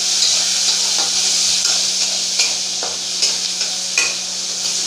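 Potato, cauliflower and tomato stir-fried in a pan, with a steady loud sizzle and hiss broken by repeated scraping and clinking strokes of a spatula, heard close without talking.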